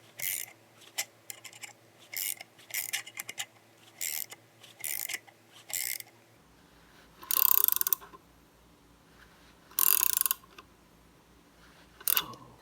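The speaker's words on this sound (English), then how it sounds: "I'll start tightening this up at the top until the spring is completely compressed" Valve spring compressor being tightened on a cylinder head while replacing valve stem seals, giving repeated short metallic ratcheting bursts in a steady rhythm, then a few louder, longer clicking bursts near the end, with no talking.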